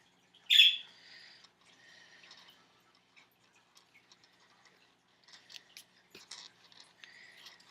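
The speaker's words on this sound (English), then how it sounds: "Sorry about my birds." A sharp squawk from a pet bird up front, then scattered quieter chirps and chatter from birds nearby against a quiet room.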